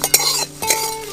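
Whole dry spices with torn bay leaf are stirred as they dry-roast in a pan over a low flame in a village kitchen. A close utensil scrapes and clinks against the metal in two short bursts, with no talking.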